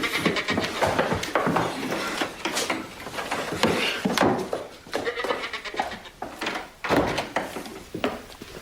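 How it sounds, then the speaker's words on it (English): Female goat bleating repeatedly among a busy, noisy scene, with several loud wavering cries, knocking and rustling, and other animal or voice sounds overlapping throughout. "You bring the female goat, you fool."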